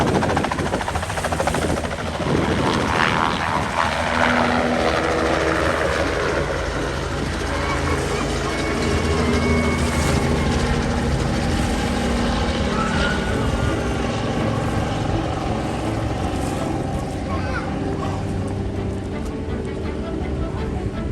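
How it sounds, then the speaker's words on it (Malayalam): A helicopter flies nearby along the Great Ocean Road coast, a steady broadband rotor and engine roar that holds loud and continuous throughout, with faint voices mixed underneath. "അവിടെ ഒരു ഹെലികോപ്റ്റർ ഉണ്ട്, ഇപ്പൊ പോകുമെന്ന് തോന്നുന്നു അവിടെ കേട്ടോ."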